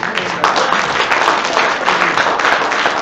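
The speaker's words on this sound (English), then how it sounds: "Let's applaud him again." An audience at a public lecture on northern Canadian public administration in Yellowknife gives a short round of applause, close and loud, with dense continuous clapping throughout.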